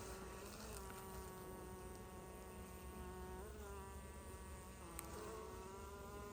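Honey bees buzzing around an open hive during an inspection, a steady, dense, faint hum with individual bees droning past, continuous throughout and with no talk.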